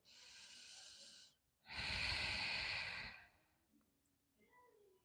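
Two long, slow breaths during a beginner Ashtanga vinyasa yoga session, a soft airy inhale followed by a fuller, louder exhale, close and alone, with faint movement afterward.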